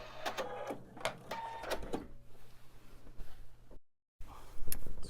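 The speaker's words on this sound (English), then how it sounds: "I'm going to go ahead and backstitch to secure that" A sewing machine backstitches along the outside edge of a quilt top, giving short bursts of rapid mechanical stitching that stop and start, with a brief silence near the end and a quiet hum in between.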